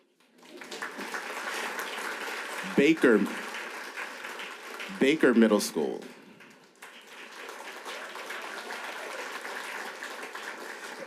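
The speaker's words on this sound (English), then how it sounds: "You can clap." Audience members at a school board meeting clap for schools being named as emerging PBIS schools. A steady patter of applause runs under an announcer's amplified voice, which speaks over it in two short bursts.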